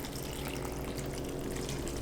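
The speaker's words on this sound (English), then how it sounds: "I'm just adding 2 cups of water" Water poured steadily into a cooking pot, a continuous close splashing rush with no pauses.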